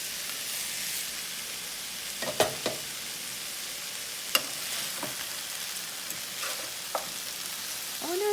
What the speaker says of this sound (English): Let's go ahead and give this a stir.